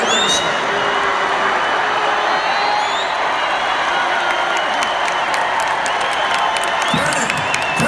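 A large rally crowd cheers, whoops and applauds continuously in a dense, loud roar, with someone shouting over it.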